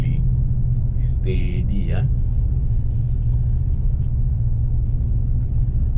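A Ford Ranger Raptor pickup driven slowly gives off a steady low rumble and road drone inside the cab, continuous and even, while someone talks briefly over it.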